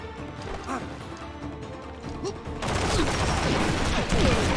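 Rapid gunfire and crashing impacts in the Stranglehold shooter game, bursts of shots growing louder and denser in the second half, close and chaotic.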